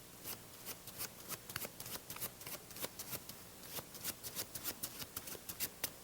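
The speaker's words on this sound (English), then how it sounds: "I'm going to shuffle." A deck of playing cards being riffle shuffled by hand during a card magic demonstration, close and crisp, with repeated bursts of rapid fluttering riffles in quick succession.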